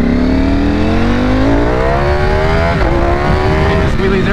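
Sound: Ducati Panigale V4 SP motorcycle accelerating, quickshifter upshifts

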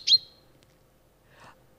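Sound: chaffinch call, played recording

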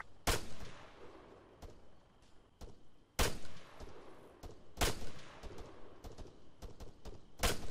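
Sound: rifle gunshots in the video game ARMA 3

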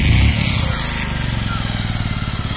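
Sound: motorcycle engine

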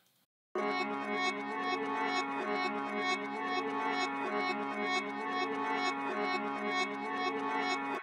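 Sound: reversed guitar loop with reverb effect

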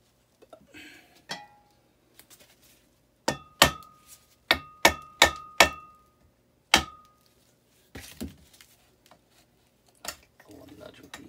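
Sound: rubber mallet tapping on 1956 Evinrude outboard motor parts

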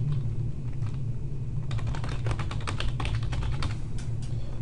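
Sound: typing on a computer keyboard

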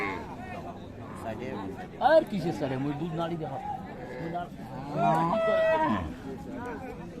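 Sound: cow mooing at cattle market

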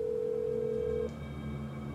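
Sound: telephone voicemail tones in Blair Witch video game

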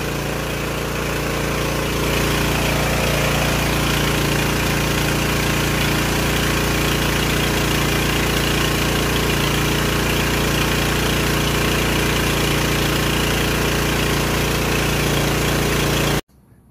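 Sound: 48v DC generator engine idling

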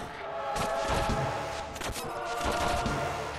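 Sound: shotgun firing in the video game Owlboy

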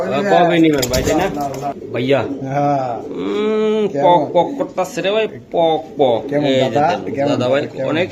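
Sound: racing pigeons for sale

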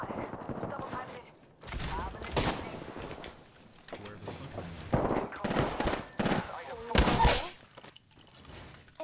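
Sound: gunfire from video game Apex Legends

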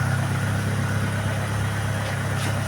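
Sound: car engine running after starting without key

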